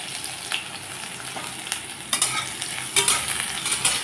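Two dried red chillies, nigella seeds and crushed garlic cloves fry in hot oil with a steady, bright sizzle, punctuated by crackles and several sharper bursts as they are stirred in the pan.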